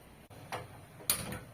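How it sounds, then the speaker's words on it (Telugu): A kitchen gas stove is lit for cooking goat head curry, with two faint clicking bursts of the igniter, a second apart, in a quiet room. "ఇప్పుడైతే ముందుగా మనం స్టవ్ అయితే వెలిగించుకుందాం."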